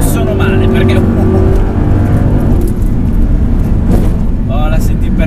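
Used Audi R8 with a single-clutch paddle-shift gearbox in sport mode: loud, close engine roar with brief interruptions where gears change, while someone talks over it.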